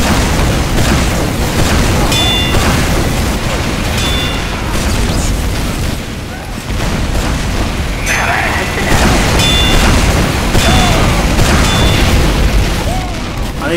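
Rocket explosions in the Team Fortress 2 video game boom amid continuous loud combat noise, repeated blasts and mechanical clatter, with someone talking over the action.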